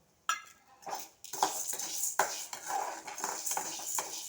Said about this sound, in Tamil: கடலப்பருப்பு நல்லா வறுத்துக்கலாம்